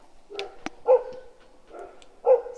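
A dog barks several times in short bursts, fairly close, with a sharp tap in between and quiet gaps separating the barks.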